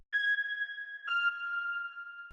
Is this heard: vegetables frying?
no